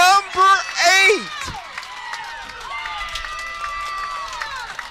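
Softball crowd cheering after a walk-off home run, with loud whoops and shouts at first, then sustained cheering and clapping beneath excited voices.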